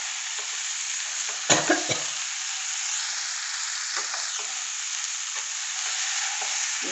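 A spoon stirs tapioca stir fry (kappa mezhukkupuratti) in a pan over a steady sizzle, with a sharp scraping clatter early on and a few lighter knocks of the utensil after.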